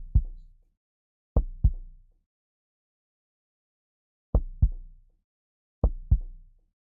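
Dark, heavy drum toms hit in pairs like a heartbeat in an Ableton loop, each thump decaying quickly, with four double hits separated by silence.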